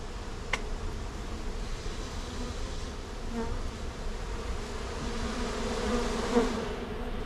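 Steady, dense buzzing of many honeybees from a swarm being moved from a bucket into a hive box, continuous throughout with a faint higher whine drifting over the low hum.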